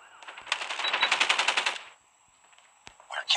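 Rapid automatic gunfire in a video game, a fast rhythmic burst lasting over a second, followed by quieter game sounds and a brief final burst, with no talk over it.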